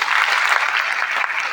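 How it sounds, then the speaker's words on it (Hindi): An audience at a foundation event applauds, a dense, loud burst of clapping that stays steady throughout. "उनके लिए भी चाहता हूं ताली बजाएं"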